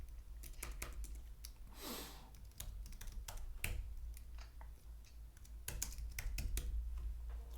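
Someone types a command at a computer keyboard during SELinux and Apache setup on RHEL, producing quick, close, irregular key clicks over a low steady hum.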